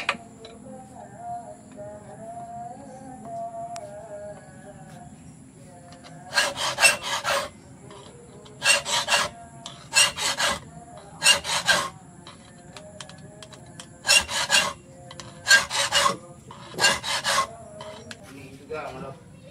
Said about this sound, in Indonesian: Jadi fungsi patar bulat itu untuk merapikan lekukan di bagian gagang model jengkolan.